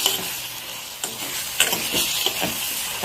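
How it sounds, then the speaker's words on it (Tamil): Tomatoes and garlic for a chutney sizzle in a hot pan, with several stirring scrapes and clicks over the steady frying hiss, heard close and alone. "தக்காளி நல்லா வதங்கிடணும் இது நல்லா இன்னுமே வதங்கட்டும்"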